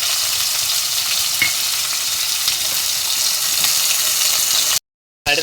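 Tomato and green chili sauté in a hot pan with a steady, close, even sizzle that runs unbroken and cuts out briefly near the end.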